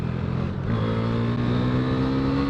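A 2020 KTM Duke 390 single-cylinder motorcycle pulls hard during a ride in the UK, its engine note climbing steadily in pitch as it revs, loud and continuous with heavy wind rush.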